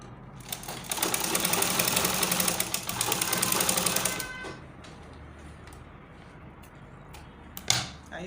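A sewing machine runs in a dense, fast buzzing burst for about four seconds while stitching an Ankara shirt collar, then stops, leaving quiet handling sounds and a brief click near the end.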